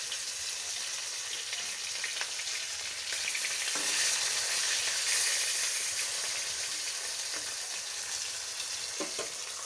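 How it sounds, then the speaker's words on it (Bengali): Pieces of common pona fish fry in hot oil with a continuous loud sizzle. Scattered pops and spatter crackles rise over it throughout. "এখনকার প্রত্যেকটা মাছই ভাজতে গেলে না ফাটে, তেল ছিটকায়।"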